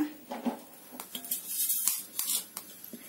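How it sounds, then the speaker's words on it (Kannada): Horse gram roasts in a pan, giving scattered sharp crackles and pops at an uneven pace, some louder snaps among softer ticks, close up with no talking. "ನೋಡಿ, ಚಟಪಟ ಸೌಂಡ್ ಬರ್ತಾ ಇದೆಯಲ್ಲ"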